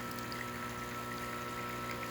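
Rocket Appartamento espresso machine pulling a test shot after a full tune-up, a steady pump hum with a continuous liquid pour, constant and fairly quiet, with no talking.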